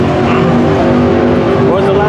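Loud car engines, including a turbocharged LS V8 setup, rumble and drone steadily at close range, with people talking over them.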